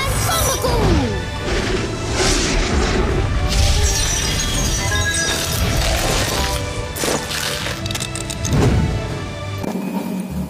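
Bomb shots explode in a Boboiboy video game, with repeated loud crashing blasts and whooshing effects layered over a busy game soundtrack that plays continuously before cutting out near the end.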